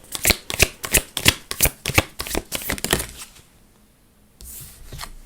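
A deck of tarot cards being shuffled by hand in quick, rhythmic riffling bursts, about a dozen sharp close flutters, followed by a quieter pause and a soft final shuffle.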